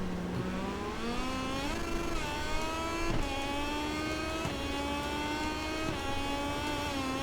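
Moto2 racing bike engines in the video game MotoGP23 at the Portuguese GP, a continuous high-pitched whine rising and falling through gear changes as several bikes run close together.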